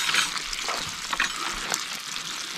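Sausages frying over an outdoor campfire, a steady close hiss and spatter of fat with small crackling pops throughout.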